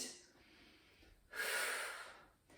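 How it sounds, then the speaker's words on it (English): One deep breath is drawn in and pushed back out during a warm-up exercise, heard close and breathy, a long inhale followed by a slower, steady exhale, with no talking over it. "big breath in, and out"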